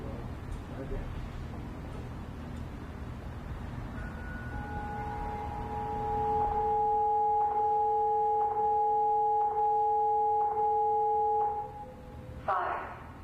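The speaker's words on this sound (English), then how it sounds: "we will also hear the audio heart saver tones and the text-to-speech system" Alert tones from a fire station dispatch system sound at a city news conference: steady sustained pitched beeps pulsing in a regular pattern for several seconds, fairly clear over a murmuring room, ending in a brief burst.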